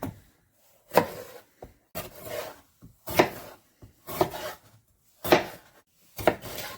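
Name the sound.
cutting peppers into chunks with a knife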